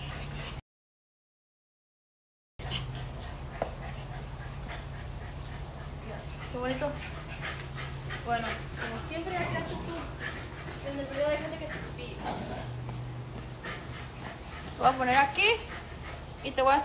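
A small dog whimpers and lets out short yips and barks indoors during a livestream, with frequent talking over it; the sounds come in scattered bursts, growing louder toward the end.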